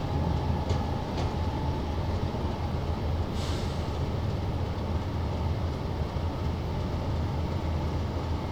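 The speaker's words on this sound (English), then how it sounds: "A freight locomotive coming in as well." In Train Simulator 2017, a freight locomotive arrives, producing a continuous low rumble of rolling rail wagons with a few brief hissing air-brake bursts near the start, steady and fairly quiet throughout.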